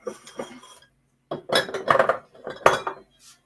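A spoon stirs a coconut, custard apple and sea moss smoothie mixture in a glass. It clinks and scrapes against the sides in several close, uneven bursts separated by brief pauses, with no speech.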